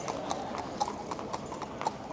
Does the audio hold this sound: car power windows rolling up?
no